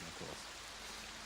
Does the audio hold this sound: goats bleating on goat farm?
no